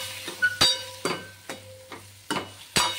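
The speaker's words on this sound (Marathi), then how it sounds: "आता त्याला फ्राय करून घेऊ आपण थोडंसं" Paneer frying in oil in a kadhai, a low steady sizzle punctuated by several sharp scraping stirs at an even, unhurried rhythm, close and moderately loud with no one speaking.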